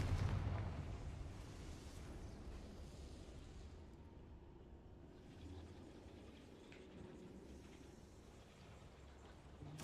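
A Confringo spell explosion in a video game, a deep rumbling boom that starts loud and rolls on as a long low roar before fading slightly, with no voices.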